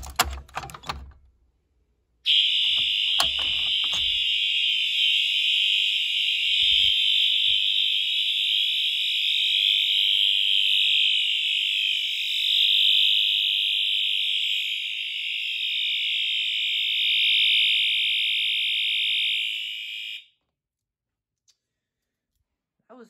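Wheelock fire alarm horn strobes sound during a fire alarm system test: a loud continuous piercing electronic horn blares steadily for about eighteen seconds after some clicking and handling, then cuts off abruptly.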